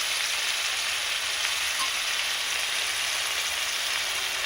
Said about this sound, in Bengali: শুকনো লঙ্কা গুঁড়ো, ভালো করে ভেজে নেব।